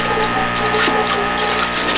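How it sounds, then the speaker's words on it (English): A small electric water pump feeds the sink in a Civic Type R converted into a camper, drawing from a 2-liter tank and powered by a Jackery power station; a close, loud, steady whirring hum runs throughout, mixed with rushing water. "A water pump here that we connect to our jackery."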